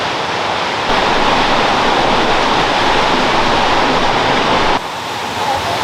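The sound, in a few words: waterfall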